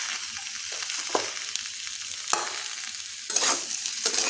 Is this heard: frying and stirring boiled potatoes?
yes